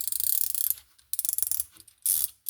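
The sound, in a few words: ratcheting socket wrench clicking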